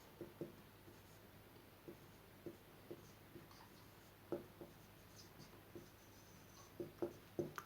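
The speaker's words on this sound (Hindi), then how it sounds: "ये पूरा उसका फॉर्मूला लिख रहा हूं मैं।" Someone handwrites a formula in a grammar lesson: soft, scratchy strokes and light taps, a close, quiet series of brief marks at an uneven pace with no talking.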